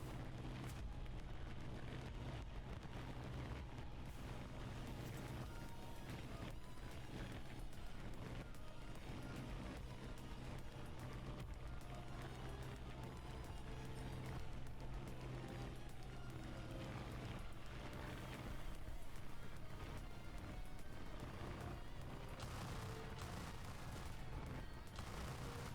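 Cannon fire in the War Thunder video game booms steadily through a dense, continuous roar of battle noise and engine drone. The racket runs unbroken for the whole stretch, and no one speaks over it.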